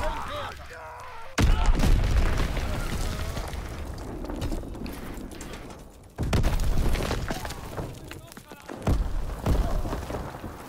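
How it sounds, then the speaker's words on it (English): A heavy bomb blast in the World War II shooter Call of Duty WWII booms loudly, followed by more explosions and scattered gunfire, with shouted voices over the battle. "Enemy bomb incoming!"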